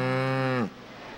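Cattle at a large indoor livestock show give one loud, close, sustained moo that breaks off about halfway, leaving only quiet hall ambience.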